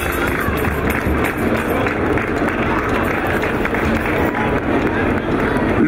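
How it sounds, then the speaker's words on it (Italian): A carnival award ceremony audience applauding, a dense continuous wash of clapping from a crowd with a murmur of voices mixed in, loud and sustained throughout. "perciò un bel applauso anche a loro"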